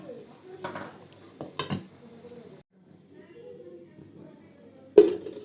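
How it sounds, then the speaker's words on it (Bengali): A lid set onto a pot of basmati biryani, with soft stirring clinks and scrapes, then one sharp metallic clank near the end as the lid lands. "এ পর্যায়ে আমি এখন ঢাকা দিয়ে ঢেকে দেব।"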